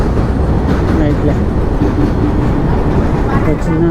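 A goods train passes at night during a road trip toward Kolkata in West Bengal, its steady rumble and wagon rattle loud and continuous throughout, with no clear breaks.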